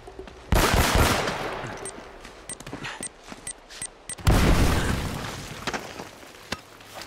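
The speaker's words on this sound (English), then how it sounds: "This pistol is lovely." Pistol shots ring out in the action game Uncharted: Drake's Fortune: a sharp loud volley opens, then scattered lighter pops follow, and a second heavy burst hits midway before trailing off into sporadic shots amid combat noise.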